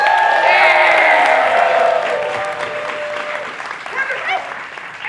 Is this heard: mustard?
no